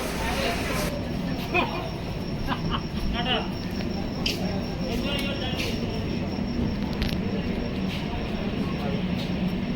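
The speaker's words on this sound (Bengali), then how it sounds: "এখন আমাদের ট্রেন কৃষ্ণনগর জাংশন ছেড়ে দিল, কৃষ্ণনগর সিটি জাংশন" Humsafar Express train pulling out of Krishnanagar City Junction, a steady low rumble of the moving train with scattered clanks and rattles, heard from on board amid background chatter.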